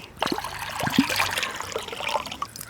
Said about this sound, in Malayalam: നാലാമത്തെ ഇളനീരും വെട്ടി വെള്ളം അതാ ഒഴിക്കണം